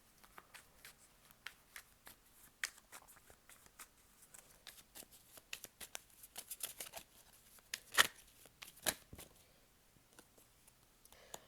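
Tarot cards being shuffled by hand, soft papery flicks and riffles in quick irregular patter, close and quiet, with two sharper snaps near the end.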